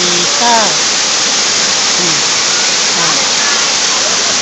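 Mae Phun waterfall in Thailand pours in a steady, loud broadband rush that fills the whole clip, with a few voices faintly audible beneath the roar.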